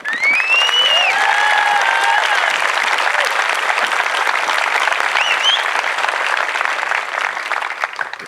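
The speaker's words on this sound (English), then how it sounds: "I'd like you to give a round of applause to yourselves for this journey and for being here today" Large crowd applause at an Air Force basic military training graduation parade, a continuous loud wash of clapping with whistles rising above it early on.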